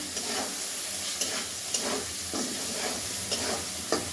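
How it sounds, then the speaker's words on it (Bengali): Fish sautéing in a pan for lau (bottle gourd) fish pulao, a steady close sizzle broken by several soft stirring scrapes at irregular intervals, with no voices. "এভাবে আপনারাও মাছটাকে একটু কষাই নেবেন"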